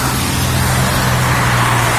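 Car traffic on a wet road after flooding gives a loud, steady roar and hiss of tyres spraying water, continuous and close, with a low engine hum underneath.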